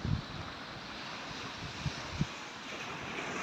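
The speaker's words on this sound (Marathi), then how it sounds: "समुद्राच्या लाटांचा" Sea waves wash onto the shore at Juhu Chowpatty beach in Mumbai, a faint, steady hiss of surf with a few soft low thumps. Wind noise is mixed in and no one speaks.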